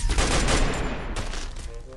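Gunfire in the battle royale game Free Fire, a dense loud burst of rapid shots followed by a brief pause and scattered further shots.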